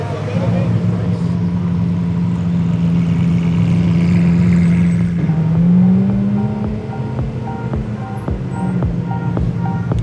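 A convoy of local supercars drives through South Florida at the start of the Gumball 3000, engines droning loudly with one revving up and down near the middle while people talk over it.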